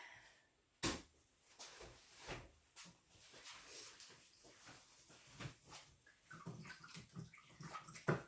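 A paint strainer used for acrylic pouring is swished through a tub of soapy water, giving quiet, irregular sloshes and splashes with small knocks and drips, one sharp clack near the start.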